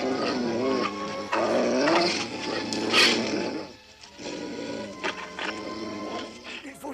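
Dogs growling in a Smurfs cartoon, rough snarls and a few barks mixed with animated character talk and a brief quiet gap midway.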